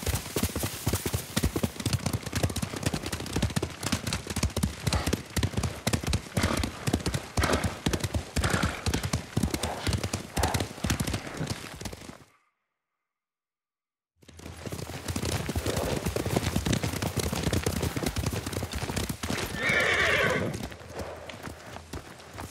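Horses galloping in the video game Ghost of Tsushima, a dense, rapid clip-clop of hooves with an occasional whinny, loud and continuous, broken by a brief silent gap midway before the hoofbeats resume.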